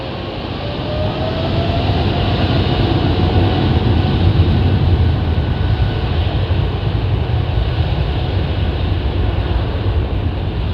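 An airliner's GE jet engines powering up for departure at Heathrow: a dense, loud roar swells within the first second, then holds steady and sustained with no pauses.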